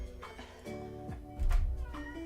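A pet cat meows during a live cosplay crafting session, giving a few short meows at close range over soft background noise and room sounds.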